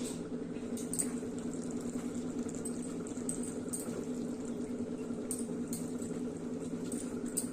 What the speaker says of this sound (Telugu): ఇట్లా కొంచెంసేపు మూత పెట్టుకోండి చింతపండు అనేది ఉడుకుతుంది